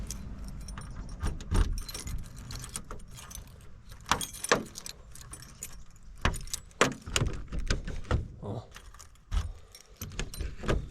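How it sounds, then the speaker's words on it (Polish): Keys jangle and click in a lock as an old Polish car's door is locked, with repeated metallic rattles and sharp clacks spread across the clip and someone speaking intermittently. "To zakluczymy na dolny klucz."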